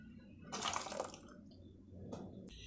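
Ground raw mango mixed with ice water being poured into a bowl: a soft splashing pour swells and fades, followed by a brief second trickle and a small clink, close and fairly quiet.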